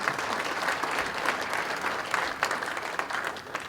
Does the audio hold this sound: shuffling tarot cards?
no